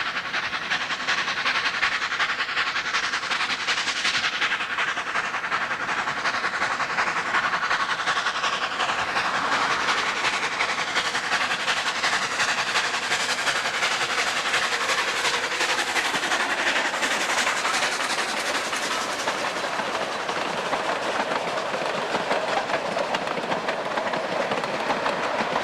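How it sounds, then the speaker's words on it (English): A narrow gauge train comes up the track in Durango, Colorado, with a steady rumble and clickety-clack of wheels that holds at a fairly even, moderate level for the whole stretch. "This is one of the narrow gauge trains coming up the track"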